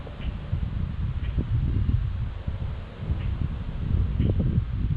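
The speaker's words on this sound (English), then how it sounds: "It's windy, so wait." Gusty wind buffets a microphone outdoors, a low rumbling rush that swells and eases in uneven waves with faint rustling, no voices present.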